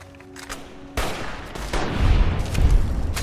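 Loud gunfire in Fallout: New Vegas on Hardcore mode, two heavy shots in quick succession, the second followed by a rolling, crackling burst that fills the short moment with dense noise and no voices.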